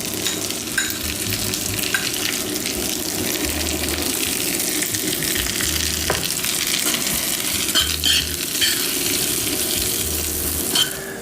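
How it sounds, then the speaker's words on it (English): Dried fruit cooks in butter and brown sugar in a pan, giving a loud, steady, close sizzle with occasional scrapes of stirring. "So let them heat up and cook off in the butter for a little bit."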